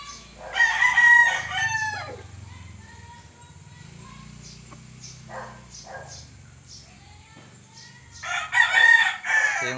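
A rooster of good breeding crows twice, once at the start and again near the end, loud and close, with quieter background noise and faint clucking between the calls.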